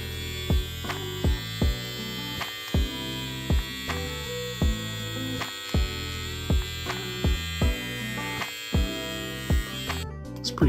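A Babyliss T45 hair trimmer with a green blade runs at close range. Its steady electric hum is broken by a regular pulsing throb, and it sounds fairly quiet and continuous.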